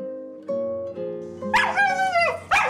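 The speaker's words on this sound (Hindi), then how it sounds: "साले आवारा कुत्ते चैन से जीने भी नहीं देते, आ जाते मुंह उठा के" A stray dog barks sharply twice after a stretch of tonal background sound, the barks loud and near with a whining edge.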